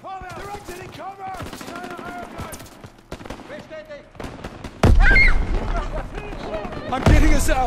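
Gunfire breaks out under urgent shouting in the Call of Duty: WWII video game, with sharp loud shots punching through near the end.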